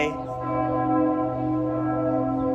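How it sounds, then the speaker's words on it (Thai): Church bells of Ulm Minster in Germany ring out with rich sustained overtones, a loud resonant peal that swells and lingers without pause across the short stretch. "ระฆังดังเง่งงาง ก็เลยเป็นคนชอบเสียงระฆัง"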